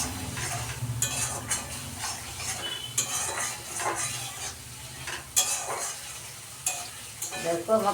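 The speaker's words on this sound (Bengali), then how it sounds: "দেখো, আমার পটল ভাপানোটা কষানো হয়ে যাচ্ছে।" Pointed gourd sizzles as it is sautéed in a pan, with repeated scraping strokes of a spatula and occasional metallic clinks against the pan, fairly quiet and close.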